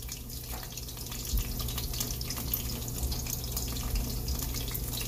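Cooked noodles being drained, with water pouring and splashing steadily into a sink for several seconds and a brief clunk early on.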